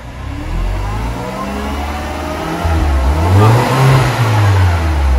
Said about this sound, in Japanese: じゃあちょっと吹かしてもらっていいですか。